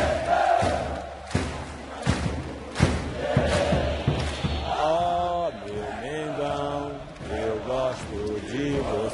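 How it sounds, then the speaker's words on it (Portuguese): Flamengo supporters sing and chant in their home stadium during a match against São Paulo, a huge crowd roar with rhythmic thumps and sustained, tuneful massed voices swelling throughout. "A torcida então cantou como nunca"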